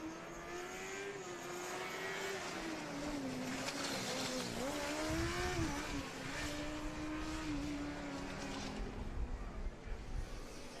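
A Formula SAE combustion race car lapping a track during an endurance event, its engine droning and shifting pitch as it passes, fairly distant with broad track ambience and faint commentary.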